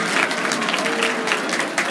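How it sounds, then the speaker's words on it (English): An audience at a speaker event gives a round of applause during a quiz, a brief, dense and steady wash of clapping from many hands. "Round of applause if you think you got all 10 correct."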